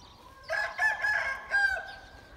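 A rooster in a backyard coop crows once, a loud close drawn-out call in several rising and falling segments lasting over a second, with no talk.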